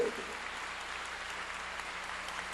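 Congregation in a church applauding together, a steady wash of clapping that fills the space at moderate level and holds evenly throughout without any voices standing out.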